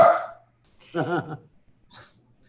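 A dog gives a few short barks, one at the start and another mid-clip, with a faint yelp near the end, close by and loud against a quiet room.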